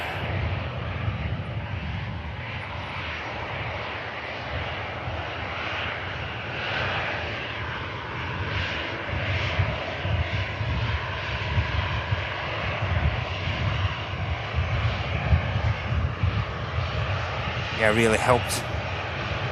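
Qatar Airways Airbus A350 jet at Manchester Airport, a continuous low engine rumble and roar that swells slightly in the second half, heard beneath someone talking.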